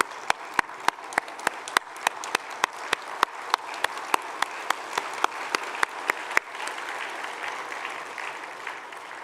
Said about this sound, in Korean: 우리 세 분 감독 후보들을 먼저 우리 한번 박수로 환영하고 격려합시다